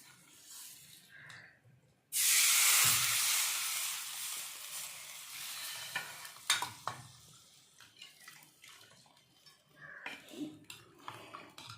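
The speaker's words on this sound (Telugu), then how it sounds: "ఇప్పుడు మనం పోపు తీసి ఇందులో వేస్తాం" A loud burst of hot tempering oil sizzling and hissing as it is poured into a dish of Telangana pachi pulusu, fading over several seconds into clinks of utensils and stirring.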